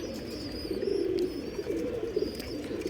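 A racing pigeon coos softly near a house, a low repeated throaty burble running steadily throughout, with faint higher chirps of other birds in the background.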